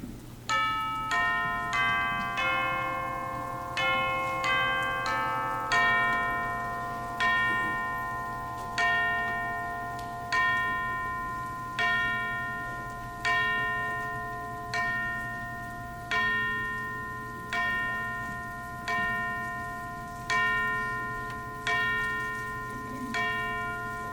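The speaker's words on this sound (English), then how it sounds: "The bell struck 12." A clock bell strikes twelve, each ringing stroke evenly spaced and left to decay before the next, sounding moderately near over a steady low hum.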